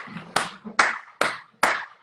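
One person claps slowly and firmly four times during a Spanish-language interview, each clap close, sharp and evenly spaced over a soft background.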